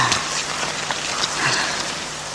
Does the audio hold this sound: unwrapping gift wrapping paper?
no